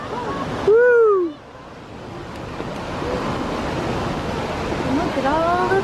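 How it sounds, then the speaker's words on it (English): A large waterfall on a hike near Seattle roars as a steady, broad rush of water, with short excited vocal whoops rising over it near the start and end. "Look at that big ass waterfall."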